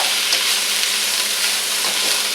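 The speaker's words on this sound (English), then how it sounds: "I'm going to throw in these onions and green peppers." Onions and green peppers stir-fry in a hot pan, a loud, continuous sizzle with stirring noises and no voices.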